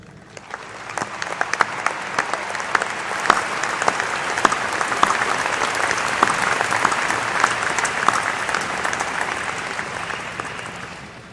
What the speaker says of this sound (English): let's applaud you for your actions.